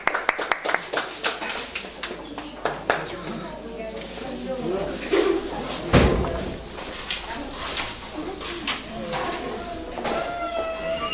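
Scattered rounds of applause at a 60th birthday celebration, irregular claps rising and falling in bursts amid a busy room with voices talking throughout.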